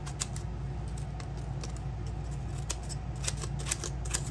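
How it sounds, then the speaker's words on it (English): Mitsumoto Sakari rescue shears snipping through paper in a rapid series of crisp, close cuts, roughly a dozen sharp snips over a steady low background hum, with no talking. "still, let's see if they'll still cut paper."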